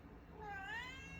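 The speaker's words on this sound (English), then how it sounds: "That is my cat, Chester." A pet cat named Chester gives a single drawn-out meow, close and fairly soft, rising then falling in pitch against a quiet indoor room.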